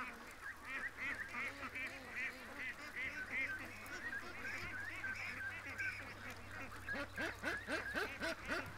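Ducks and geese calling and honking steadily by a lake, a dense overlapping chorus with some nearer quacks, moderately close, continuing without pause.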